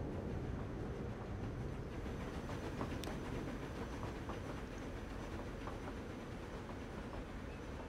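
Train running in the game Transport Fever 2, a quiet steady rolling rumble with faint rhythmic clicking of wheels on rail joints throughout.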